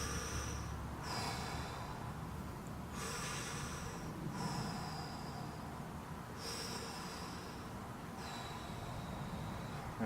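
Steady, slow breathing while holding a yoga hip flexor stretch, with several distinct breath cycles spaced a couple of seconds apart over a constant background hiss.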